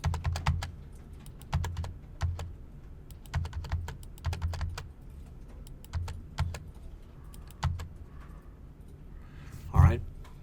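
Computer keyboard typing and tabbing in irregular bursts of soft clicks, close and moderately quiet, with someone talking intermittently over the keystrokes and a brief louder sound near the end.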